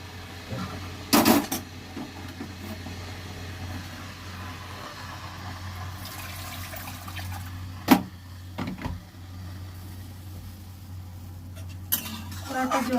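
A metal kadai rinsed with a little water, with a few clanks and scrapes of metal over a low steady hum and faint background noise.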